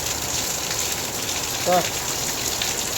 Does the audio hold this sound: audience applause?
no